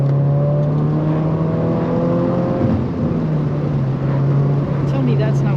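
Toyota GR86 sports car engine pulling hard on winding roads, a steady droning tone heard from inside the cabin, loud and continuous with no talk over it.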